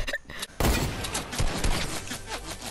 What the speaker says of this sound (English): there's somebody shooting at you